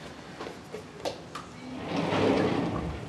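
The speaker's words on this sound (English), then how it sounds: "let me close the door here" A pocket door in a Palm Springs home slides shut, a few light knocks and clicks followed by a longer rolling rumble as it glides into the wall, heard close in a quiet room.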